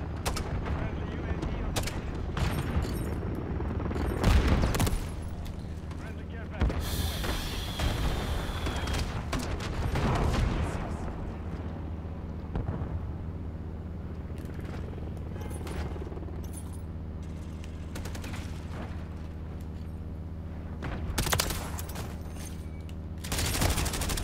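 Gunfire in Call of Duty Modern Warfare 3, with repeated rapid bursts of automatic fire, sharp cracks and heavier booms spread over about 24 seconds amid game mechanisms and background noise.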